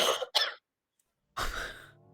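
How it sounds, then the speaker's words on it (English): Two quick, close coughs, a brief silence, then a harsher throat-clearing cough that trails off. "I was coughing"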